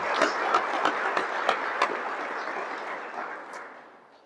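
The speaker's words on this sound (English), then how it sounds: "which deserves, I think, some applause" A recognition ceremony audience breaks into warm applause, with dense clapping that carries for several seconds before gradually thinning and fading out.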